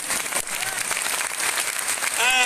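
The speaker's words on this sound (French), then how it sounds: "Applaudissements." Audience applause at a drum major tattoo band presentation in Arras, a short burst of crowd clapping mixed with faint voices and a whistle-like tone near the end.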